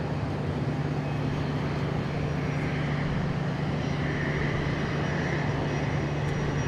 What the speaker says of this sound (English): Gulfstream here, taking off.